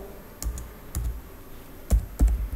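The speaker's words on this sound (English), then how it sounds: "Let's type" A few separate, fairly loud keystrokes on a computer keyboard at a command-line prompt, spaced irregularly over a low steady room hum, with no voices.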